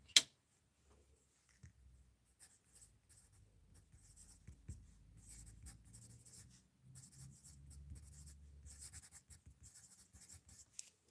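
Pen or pencil scratches across paper at a card-making desk, quiet, close and intermittent, in short strokes with brief pauses, with no talking.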